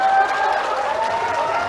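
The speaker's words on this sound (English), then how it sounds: "I don't know why you're clapping like someone who's obedient slave." A debate audience claps in a dense, steady wash of applause that runs the whole time, fairly loud and even, with crowd noise mixed in and no speech over it.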